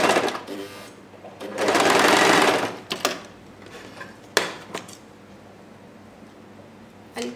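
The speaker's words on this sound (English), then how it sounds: "I'll stitch this strip on the end." Sewing machine stitching a fabric strip onto an umbrella dress, one loud steady run of about a second and a half, framed by short mechanical clicks and handling noises, with a brief voice nearby.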